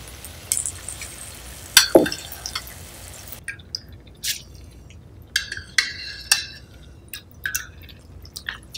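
Soaked rice tipped into shrimp masala in a pan and stirred, giving scattered close scrapes, wet patters and small clinks of the spoon against the vessel, with no talk.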